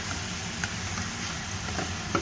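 Chicken frying in a pan being stirred, a constant close sizzle with faint scraping and a few light clinks of a utensil.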